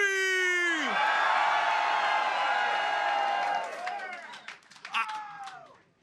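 Political rally crowd for Donald Trump in New Hampshire screaming and cheering loudly in a sustained roar that fades after a few seconds, with scattered whoops at the end.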